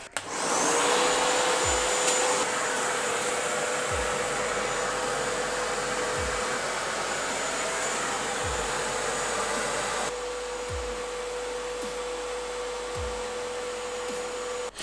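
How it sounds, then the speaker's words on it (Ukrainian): Vacuum cleaner running loudly and steadily to test a stretch ceiling's perforated ventilation profile, a continuous whine with a faint low rhythmic thumping, its level dropping slightly partway through. "Включаємо пилісос."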